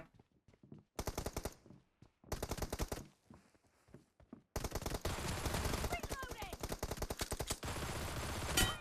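Bursts of automatic gun fire in PUBG Mobile, some short and separated by quiet gaps, then a long, dense, continuous volley near and loud, with brief voice sounds mixed in.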